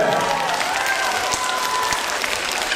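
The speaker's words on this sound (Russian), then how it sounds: "Аплодисменты!" Audience applause at a children's concert, a continuous even wash of clapping throughout, fairly loud and close, with a faint voice briefly audible beneath it.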